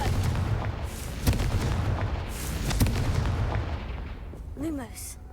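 Confringo explosion spell from a video game, a series of sharp booming blasts and crackling bursts over continuous rumbling game noise, with a brief whistling sweep near the end.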